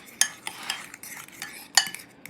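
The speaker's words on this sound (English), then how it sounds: "Mix this up. Get it good and combined." Crab cake mixture is stirred in a bowl, with a handful of sharp utensil clicks and scrapes against the bowl over soft wet mixing, close and fairly quiet, with no talking.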